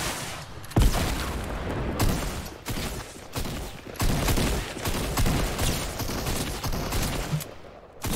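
Shotgun blasts go off in the Fortnite video game, loud booming shots fired every second or so amid other nearby gunfire and game sounds.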